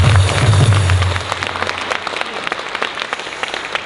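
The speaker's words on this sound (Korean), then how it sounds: "박수 한번 하겠습니다." A large crowd at a Korean political rally applauds, starting with a full roar of clapping under a low rumble, then thinning to scattered, patchy claps as it fades.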